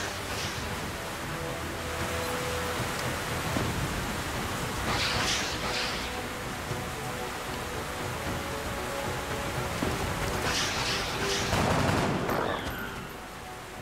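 Squad gunfire in the video game XCOM, with two loud bursts of rapid fire standing out over a constant rushing background roar of in-game ambience, no voices.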